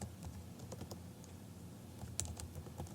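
A search term tapped out on a computer keyboard, a steady patter of light key clicks with one slightly stronger stroke toward the end, close and alone with no talking.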